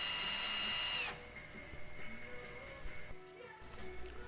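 A drill countersinks a rib for a Vans RV aircraft rudder, a brief high whine that stops after about a second, followed by quiet workshop noise and faint handling sounds.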